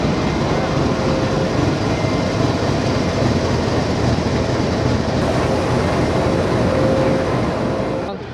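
The Shalimar Express and its garland-decorated locomotive stand at a station, giving off a loud, steady rumble and engine drone that holds throughout, with voices mixed in.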